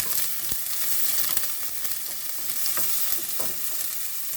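Onions sizzle in a cast iron cocotte for pork ratatouille, a close, even frying hiss punctuated by a few crisp stirring clicks and spatula taps, with no speech.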